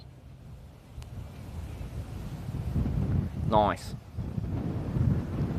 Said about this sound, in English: Man, this wind is kind of a lifesaver today